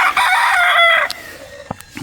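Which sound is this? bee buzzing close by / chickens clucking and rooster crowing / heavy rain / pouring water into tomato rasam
chickens clucking and rooster crowing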